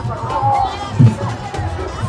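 A large crowd at the Mathia Pada Parab festival in Kalampur fills the air with dense, steady babble and shuffling, close and continuous, with a voice speaking over the hubbub.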